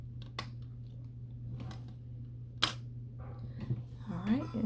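Polymer clay being sliced into very thin strips with a blade, several sharp close cuts and taps spread out over a steady low hum, with soft rustling near the end.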